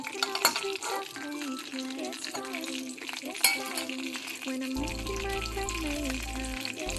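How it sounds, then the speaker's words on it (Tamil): Mustard seeds and urad dal sizzle in hot oil in a kadai for tempering, a loud, steady, close crackle that runs throughout as background music joins partway through. "கடுகு உளுத்தம் பருப்பு போட்டிருக்கேன் கடாயில்"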